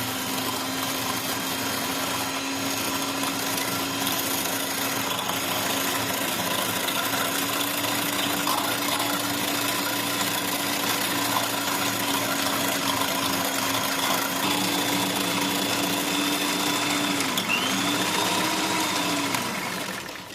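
Electric beater whirs steadily in a bowl beating one egg for sponge pudding, a constant motor whine with a slight pitch wobble near the end, running alone without any talking.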